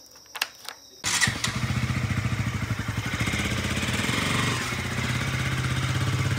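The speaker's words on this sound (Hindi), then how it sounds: "चलो बाइक पे चलते हैं" A motorcycle engine starts up after a couple of short clicks, then settles into a loud, steady, close thumping run that holds through to the end.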